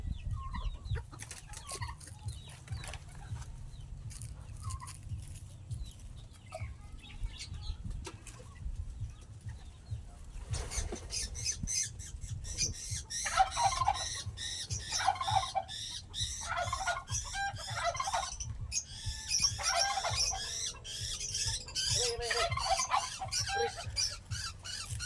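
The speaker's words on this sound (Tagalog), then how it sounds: "Kaya ang gagawin kayo, magpapakain na lang ako ng ating mga ibon." Chickens and other farm birds at feeding time, clucking steadily through a low, constant background hum, with the cackling and calls growing busier and louder in the second half and some brief wing flapping.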